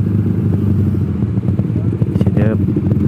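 Motorcycles ride through a city at night, their engines droning steadily up close, with voices talking over the rumble.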